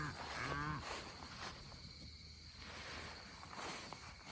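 Cows and calves moo in a grassy pasture during a herd move of about 300 head, with a few drawn-out lowing calls at moderate distance over a soft outdoor background of insects.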